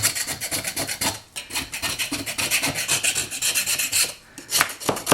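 A tool scrapes old material off the spine of an old book in quick, even strokes, a close, raspy rubbing that repeats rhythmically with a short pause near the middle.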